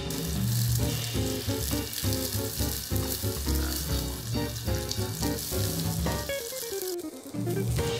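Carrot medallions fry for honey-glazed carrots in a pan, giving a steady loud sizzle close by with faint stirring and clatter throughout, alongside soft background music.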